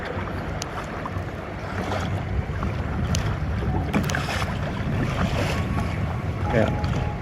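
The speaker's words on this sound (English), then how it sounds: "Looks like this definitely has a wind on this side." Steady wind rushing past the microphone while kayaking off Blake Island, Washington, with low water wash and occasional paddle splashes underneath, constant and fairly loud for several seconds.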